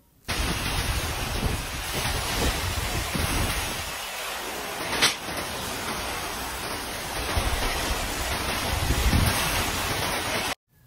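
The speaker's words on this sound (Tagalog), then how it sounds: "ito sa may gilid ng bahay namin ay malakas din yung hangin talaga" Typhoon Kristine's strong wind roars beside a house, a continuous, loud rushing gust noise with buffeting that swells and eases slightly but never stops, cutting off abruptly at the end.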